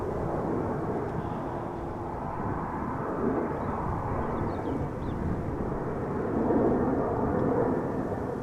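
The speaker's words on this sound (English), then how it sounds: "Delta Airlines flight 259 A330-300 outbound to Boston" A Delta Airlines Airbus A330-300 passes outbound at Amsterdam Schiphol Airport, a loud, steady broadband jet roar that swells slightly toward the end, heard outdoors with no talking.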